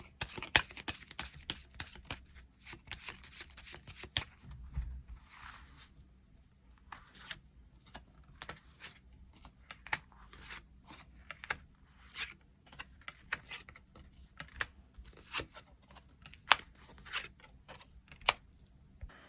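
Tarot cards shuffled and drawn, heard as a long series of soft card flicks, slides and taps at irregular intervals, close and quiet, with no talking.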